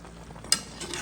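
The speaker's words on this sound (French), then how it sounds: "Mélange bien tout." A spoon scraping and stirring through a beef and carrot stew with wine in a small pot, close, with a soft simmering hiss and one sharp metallic clink midway.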